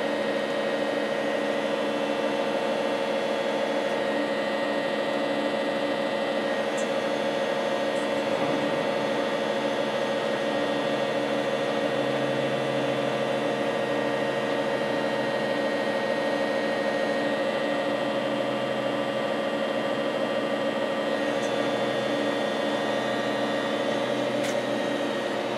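A Cincinnati Milacron 220-8 centerless grinder with electro-hydraulic infeed runs steadily, giving a constant mechanical hum with several sustained tones and a faint airy hiss, unchanging throughout with no talking.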